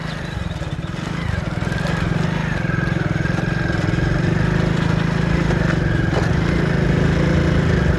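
A motorcycle engine drones steadily and loudly while riding on a brick road in a village, its rough rumble building slightly as the bike rides along, with a faint rattling texture of vibration throughout.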